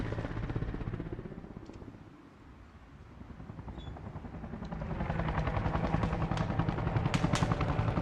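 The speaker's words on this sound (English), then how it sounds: "I believe that's an Mi-8 helicopter with quite a few Soviets inside" A Mi-8 helicopter flies in a military video game, its rapid rotor chop dipping briefly, then growing louder and nearer, with faint clicks scattered over the steady drone.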